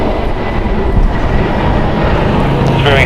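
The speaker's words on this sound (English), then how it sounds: "Departing is Spirit Airlines Flight 1043 going to San Antonio." A Spirit Airlines Airbus A320neo departs LAX bound for San Antonio, its engines producing a loud, continuous roar close by, with a brief higher-pitched tone near the end and no clear speech.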